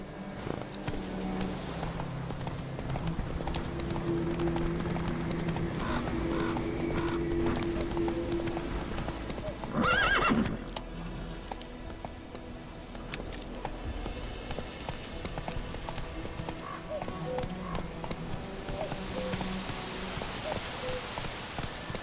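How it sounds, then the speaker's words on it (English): Hoofbeats of Roach, the horse in The Witcher 3 video game, clop along at a steady pace over a dense backdrop of rain and ambient noise, with a brief louder burst midway. "Come on, Roach. That's it, Roach."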